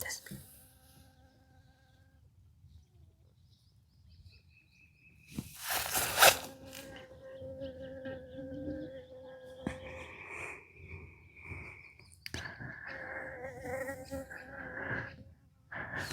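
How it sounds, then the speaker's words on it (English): A honeybee buzzes around young plants on a homestead in Mexico, a thin, faint drone early on that gives way to louder rustles and a person talking nearby. "That's a honeybee."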